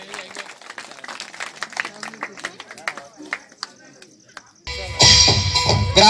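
Villagers break into loud, sudden applause of welcome that swells near and dense, following a stretch of someone talking at a gathering.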